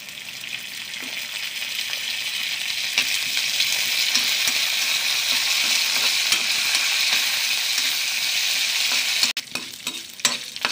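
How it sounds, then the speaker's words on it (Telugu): Curry leaves frying in hot tempering oil for a potato upma curry give a loud, steady, close sizzle that fills the whole stretch, with a few clicks and a brief break near the end. "ఇప్పుడు మనం ఇందులో చివరగా కరివేపాకును కూడా మనం వేసుకొని వేయించుకుందాం"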